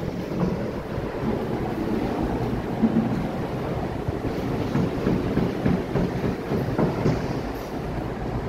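Strong typhoon wind roars steadily through San Juan during Typhoon Uwan, a dense, continuous rushing with low buffeting gusts that stays loud throughout without a pause.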